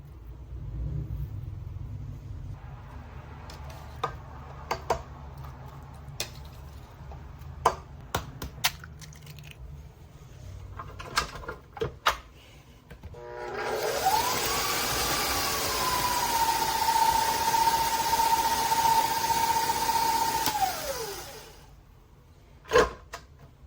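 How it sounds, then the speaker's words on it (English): An electric mixer blending minced beef and onion for a soft Japanese hamburg steak: a loud, steady motor whir with a whining tone that holds for several seconds, then winds down and stops, preceded by quieter clatter. "Now dump all the remaining ingredients into the mixer and blend them together."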